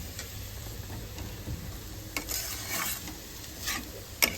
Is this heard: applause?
no